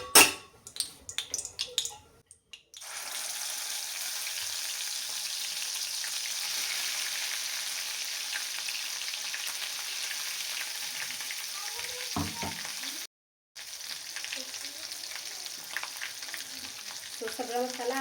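Ground spice paste from a mixer jar drops into a hot pan with bay leaf and fries with a loud, sustained sizzle, preceded by clattering handling noises and briefly interrupted near the end before the frying resumes.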